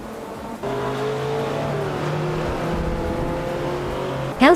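Race cars engines roaring steadily in a racing video game, a sustained loud whine with shifting pitch as several cars run close together, ending in a sharp rising rev.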